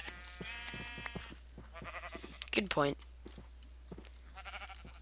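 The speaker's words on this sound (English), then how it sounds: "Hold on, I need to shear these sheep." Sheep in the Minecraft video game bleat repeatedly in short wavering calls, several overlapping at close range, while players talk over them.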